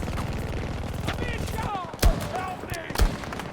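Gunfire in Battlefield 2042, a steady rapid stream of shots with two heavier, louder reports near the end, close and prominent, with a voice speaking over part of it.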